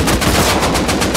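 Rapid automatic gunfire in the video game Rust on console, a dense unbroken burst of loud, close shots fired in quick succession, with no talking.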